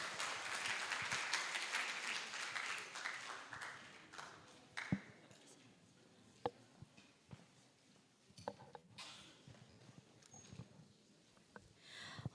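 A conference audience claps loudly at first, then the applause thins out into scattered claps and a few sharp taps against a quiet room.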